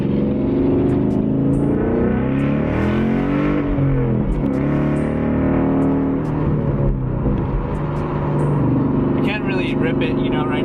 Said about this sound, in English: this is the sound of the exhaust